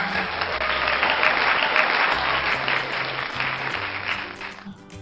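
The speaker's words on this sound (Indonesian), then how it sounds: "tepuk tangan dulu dong." A live radio-studio audience for a scouting programme breaks into applause: steady, dense clapping held for several seconds and fading slightly at the end, with faint low tones beneath.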